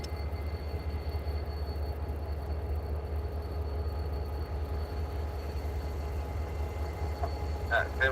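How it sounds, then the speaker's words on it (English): Two Union Pacific locomotives approach in the distance, a steady low diesel rumble that holds evenly throughout, faint and far off, with a brief chirp near the end. "looks like we have 2 UP locomotives making their way towards us"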